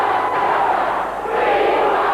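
A capacity wrestling crowd chants "We want Stuka" in unison, a loud, rolling roar of many voices filling the arena without pause.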